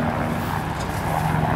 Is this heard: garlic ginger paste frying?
no